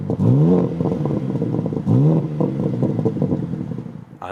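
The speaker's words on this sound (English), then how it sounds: "Under the hood, the 3-liter inline 6-cylinder by BMW, famous engine." A 2024 BMW M3 Touring's M-tuned 3-litre inline six-cylinder engine revs loudly and close, two rising rev sweeps separated by a steady throbbing idle.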